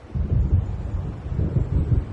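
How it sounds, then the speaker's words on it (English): Low, rolling thunder from an approaching storm in the game Alan Wake Remastered, a deep continuous rumble swelling and receding over the whole stretch, heard alone with no voices. "It seems there's a storm coming"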